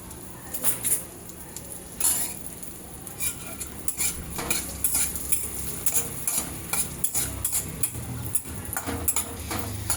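Dry fruits sautéed in ghee in a pan on a gas stove for coconut kheer, a spoon scraping and clinking against the pan in irregular stirring strokes over a soft sizzle, close and without talk.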